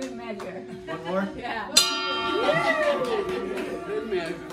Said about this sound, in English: And this is the only time you're ringing this bell